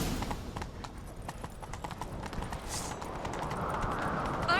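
A horse's hooves clip-clop in a fast steady rhythm in The Witcher 3, close and moderately loud, the galloping beat carrying on throughout beneath faint background game sound.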